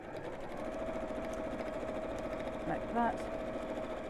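A domestic sewing machine runs steadily as it stitches straight across a hole in fabric, a soft continuous motor hum with a fast needle pulse, while someone talks briefly over it.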